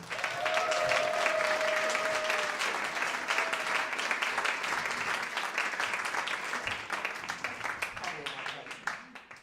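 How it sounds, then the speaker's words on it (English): An audience at a live science storytelling event claps warmly, a dense sustained round of applause that fills the room and slowly thins toward the end, with a voice briefly audible early on. "Please give a warm round of applause for Mary Jo Pollack, everyone"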